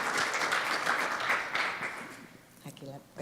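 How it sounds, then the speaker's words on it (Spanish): An audience applauds at a monthly breakfast talk, a dense burst of clapping fading out as a voice speaks over the end. "Quisiera darte un fuerte aplauso por tu tiempo"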